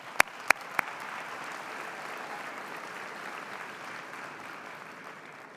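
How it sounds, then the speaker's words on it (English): Applause from a 2023 commencement ceremony audience for the commencement speaker: a few sharp, loud claps open, then steady, dense clapping from a large crowd fills the hall throughout, with no talking. "Yes, let's applaud her."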